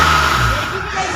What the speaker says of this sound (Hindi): इस तरीके से आपको इंजन का आवाज़ सुनाई दे रहा